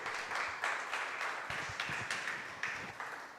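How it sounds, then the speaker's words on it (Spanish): Scattered clapping from a church congregation comes in uneven bursts, moderately distant, with faint background murmur. "Dale un aplauso al Señor."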